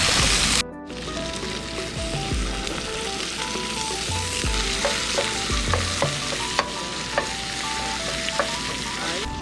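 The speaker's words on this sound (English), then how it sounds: "sausage is just about getting done" Pork breakfast sausage fries in a Dutch oven outdoors, a steady loud sizzle with repeated scraping stirs and soft clacks of a utensil against the pot.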